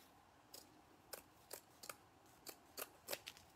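Scissors cut scrap burlap in about ten quick, crisp snips, some doubled, sounding close and faint against a quiet background with no speech.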